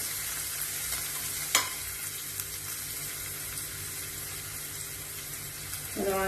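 Onions fry in a pan over medium heat with a steady, soft sizzle. One sharp clink of a utensil cuts through, and a brief stirring scrape comes near the end.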